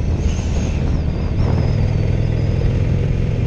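A 2016 Harley-Davidson Roadster motorcycle engine runs steadily while riding at around 3,000 RPM, a loud, continuous low rumble with wind noise and no speech.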